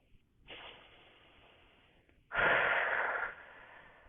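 Two slow, audible breaths, a softer inhale followed by a longer, louder exhale, close and unhurried with no talking.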